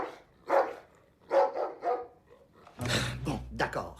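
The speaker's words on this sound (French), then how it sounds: "C'est un jappement à l'envers, ton cri de Yeti." A supposed Yeti cry in a cartoon, played from a recording and sounding like a dog's yelp reversed, several short yelping calls spaced apart, then a louder burst of overlapping sound near the end.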